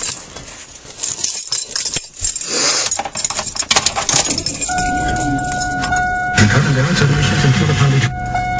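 Keys rattle and jingle, then a car engine cranks and catches into a steady idle that holds to the end, with a few faint voices nearby.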